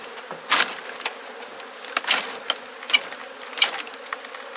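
Bees buzz around an open hive in close, swelling loud passes over a steady insect drone, with a few sharp knocks between them.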